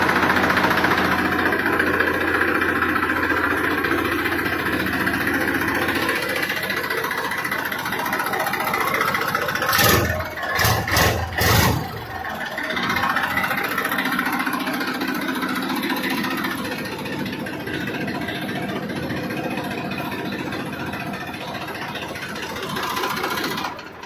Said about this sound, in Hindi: तो किसान भाइयों थोड़ी सी आवाज़ सुन लो ट्रैक्टर की आपस में।